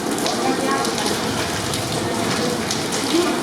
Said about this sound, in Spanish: La lluvia no paraba